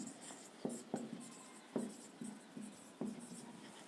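A pen or marker writing on a board or page during a biology lesson, a series of short scratchy strokes in irregular bursts, close and fairly quiet with no talk over it.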